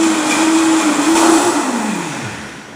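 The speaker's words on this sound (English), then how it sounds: "we're going to turn it on, and then it's going to start spinning." A Vitamix or Blendtec blender spins up with a loud, close motor whine that rises, holds steady, then glides downward in pitch as the blades slow over a few seconds.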